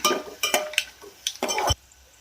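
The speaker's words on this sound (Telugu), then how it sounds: "ఎండుమిర్చి వేసినాక ఇలా కలుపుకోవాలి." A spoon stirring rava upma with two or three dried red chillies in a pan, a few quick close scraping and clattering strokes over about two seconds, then quiet.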